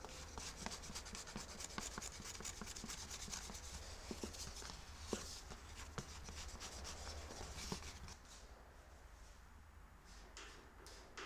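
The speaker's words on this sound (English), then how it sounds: "Zach is working on sanding off the Bondo right now." Bondo body filler is sanded off a Ford F250 under restoration, giving faint, continuous scraping and rubbing strokes with small clicks, quiet and steady throughout.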